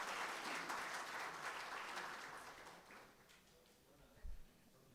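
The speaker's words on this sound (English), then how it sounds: "How about putting your hands together and welcoming him?" An audience at a talk by spiritual teacher Shri M claps warmly in a sustained burst that fades toward the end.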